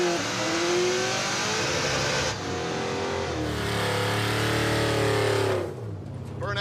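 A muscle truck doing a burnout, its engine revving hard and holding high rpm with rising and falling pitch and a roaring exhaust for several seconds before easing off, loud and close, with no speech.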